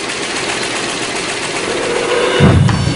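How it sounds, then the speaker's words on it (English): A Lipton tea bagging machine runs at 600 bags a minute, a loud, continuous mechanical whir that swells toward the end with a heavier low thump, with no voices. "This one, which shoots out 600 bags a minute, is used to bag Lipton's green and specialty teas."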